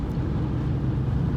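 Steady low rumble of a car cruising at speed on the German autobahn in convoy, a continuous droning road and engine noise with no voices.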